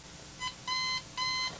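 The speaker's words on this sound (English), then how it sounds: "All right, alarm clock, it's time to wake him up." An electronic alarm clock rings in three short bursts of bright, steady beeping, the first brief and the next two longer, alone against a quiet background.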